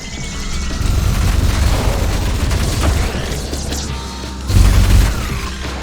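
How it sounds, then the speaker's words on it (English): Ultrakill video game combat with an overheated nail gun magnet trap: a dense, loud, distorted barrage of booming and crashing impacts that clips and overwhelms the sound, with a heavier blast near the end. "This does so much damage that it will quite literally break both the audio and almost crash the game."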